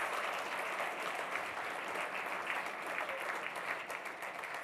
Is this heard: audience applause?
yes